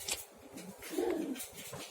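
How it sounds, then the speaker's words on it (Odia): Pigeons cooing softly in a pigeon loft, a low burbling coo near the middle amid faint rustling and a light chirp, fairly quiet and with no voices. "ଆଉ ପାରା ସବୁ ଅଛନ୍ତି, ଖାଉଛନ୍ତି ବି।"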